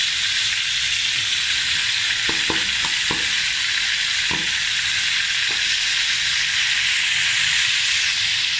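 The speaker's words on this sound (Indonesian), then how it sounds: "Kita masukkan bawang bombay dulu ya guys." Onion added to a hot pan for black pepper sauce, a loud steady hiss of frying with a handful of sharp clicks and taps from utensils early on, no talk.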